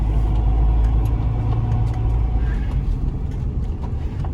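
A Honda Integra with a swapped-in manual transmission runs steadily with a low, continuous engine rumble, as if driving along at moderate speed, fairly close and loud throughout.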